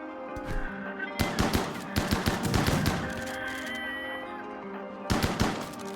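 An automated turret in RimWorld fires at mechs in rapid bursts of shots, two longer volleys early on, a pause, then a short final burst, loud against a steady game background.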